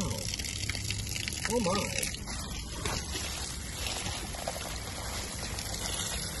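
Dark, dirty water pours and gushes from an old galvanized pipe during a home plumbing repair, a steady wet rush under exclaiming voices.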